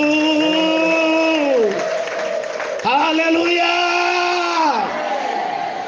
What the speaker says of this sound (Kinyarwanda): Amashyi menshi n'impundu kwa Yesu.